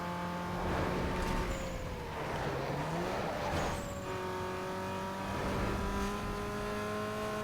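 A Peugeot car's engine in the racing video game Need For Speed Underground 2, a continuous droning whine that rises and falls with gear changes and revving, steady and loud throughout.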